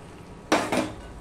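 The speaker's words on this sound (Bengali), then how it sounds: "আলু দিয়েও সম্পূর্ণটা আমি মিশিয়ে নিচ্ছি" Chicken curry with potatoes is stirred in a pan over a low-to-medium flame, with two quick metallic scrapes and clanks of a utensil against the pan in close succession.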